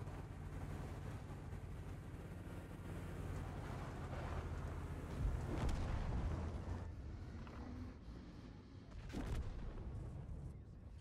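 A tank main gun fires in a video game, with a heavy boom near the middle and another shortly after over a constant low engine rumble.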